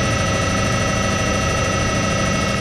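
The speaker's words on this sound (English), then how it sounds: "WLKY Chopper HD above the scene Friday, helping crews on the ground get a bird's eye view." A news helicopter flies above a raging brush fire near the Heaven Hill bourbon rickhouse, its steady, loud rotor-and-engine drone filling the air unbroken, with no voices.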